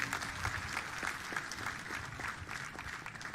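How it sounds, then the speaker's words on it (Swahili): An audience claps steadily throughout at a public ceremony in Kenya marking a military officer, with a dense, even patter of hands heard from a distance. "mpigie makofi jameni"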